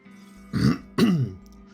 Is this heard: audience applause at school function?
no